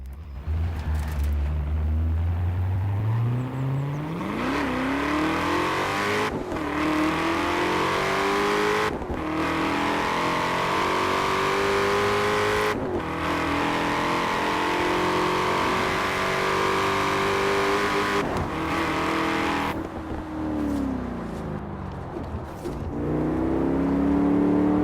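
A car engine in Forza Horizon 4 revs repeatedly, pitch climbing through gears with brief cuts at each shift, loud and close, alone without talk.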